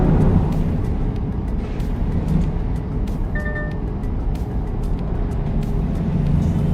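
A truck in the driving game Assetto Corsa cruising fast at around 80 mph, its engine a steady loud rumble with constant road and wind noise throughout, without shifts or breaks.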